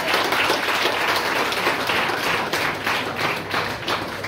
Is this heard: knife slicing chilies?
no